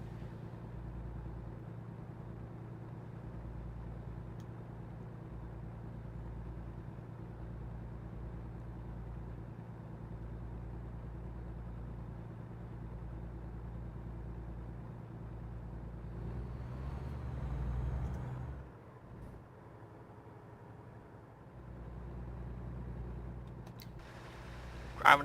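Truck hauling a load of Teslas in American Truck Simulator, driving from Elko to Phoenix: a steady low engine drone with road noise throughout, dipping briefly near the end before a sharp click.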